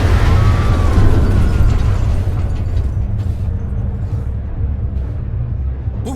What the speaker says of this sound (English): Only a fluid overload can make that kind of noise.